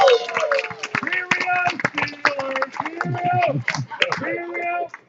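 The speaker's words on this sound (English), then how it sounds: "go ahead, give him an ovation" An audience at an Elks lodge awards dinner claps, an uneven patter of hand claps mixed with loud overlapping voices, shouts and chatter as guests talk over the ovation.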